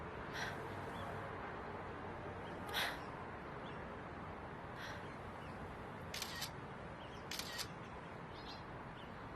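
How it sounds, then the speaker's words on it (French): Several crisp camera shutter clicks as photos are taken, scattered singly and in quick pairs over a quiet, faintly hissing background. "Je vais prendre une photo de toi tout de suite."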